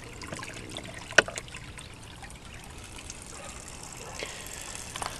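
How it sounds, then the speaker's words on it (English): Water flows from an old wash tub valve into a rubber tub pond in a crude backyard aquaponics setup, a soft steady trickle with one sharp knock early on and a few faint clicks near the end. "it has a valve to control the water flow, and right here is where the water comes out."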